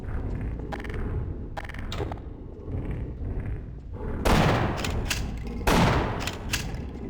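Gunshots in the video game Half-Life: several sharp, loud reports in a short cluster, with two heavier blasts near the end, set over a continuous rumbling game ambience.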